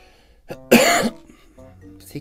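A single harsh cough bursts out, close and loud, with quieter breathy sounds and brief throat noises around it.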